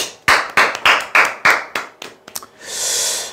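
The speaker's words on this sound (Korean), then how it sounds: "네, 박수." A single person claps about six times in a slow, even rhythm, close and sharp, followed by a few scattered taps and a soft breathy rush at the end.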